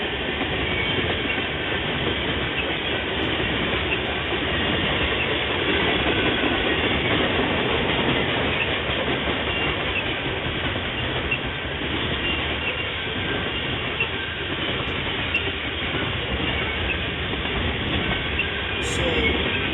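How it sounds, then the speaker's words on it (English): A long freight train with wood chip cars rolls past close by in a steady, loud rumble, with continuous clickety-clack of wheels on rail and brief faint squeals near the end. "Wood chip cars going through."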